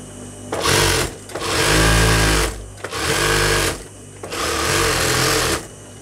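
A sewing machine runs a seam on palazzo trousers in three loud bursts of rapid, droning stitching separated by short pauses.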